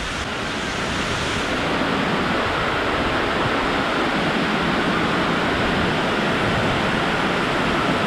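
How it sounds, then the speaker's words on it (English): Heavy rain pours down loudly and continuously at a construction site with a freshly poured concrete floor, a dense, steady hiss with no talk over it. "I don't know how well you can hear me because of how loud this rain is."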